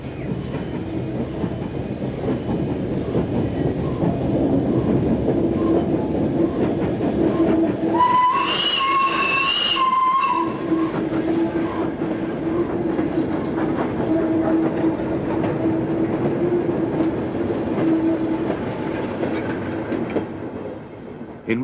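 A steam locomotive hauling a demonstration train on the North Yorkshire Moors Railway rumbles past with steady rhythmic chuffing and wheel clatter, loud and close, with a sharp whistle blast partway through.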